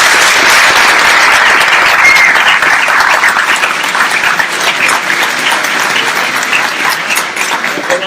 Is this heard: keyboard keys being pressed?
no